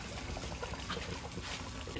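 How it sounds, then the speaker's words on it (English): Water circulating through a homemade water chiller pump setup, a steady broadband rushing and trickling flow that stays even and close throughout, with no voices. "As you can see, the water is flowing through the entire system."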